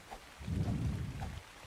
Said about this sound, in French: Et en plus, il pleut.